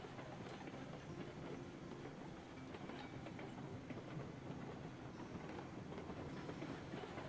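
A train rolls downhill in Railroads Online, a steady faint rumble and rattle of wheels on track with no pauses, continuous and even throughout.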